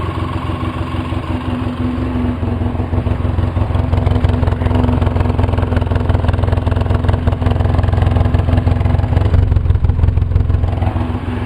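A 2004 Polaris Sportsman 700 ATV engine, just fitted with a fresh exhaust, idles roughly and loudly up close with a steady uneven chug and no talk over it.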